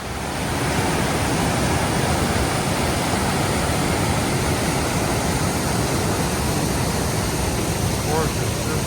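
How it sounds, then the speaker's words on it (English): Falls water pours down beside a bridge as a loud, constant broadband rush, close and unbroken throughout. "this is the water flowing down into the bridge"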